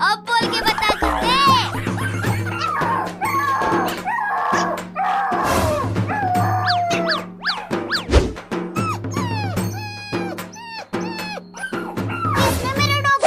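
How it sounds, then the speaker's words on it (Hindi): Dog whimpers and yelps repeatedly after being hit, high wavering cries close by, mixed with overlapping human voices and playful shouting in a comedy sketch setting. "किसने मेरे डॉग को मारा?"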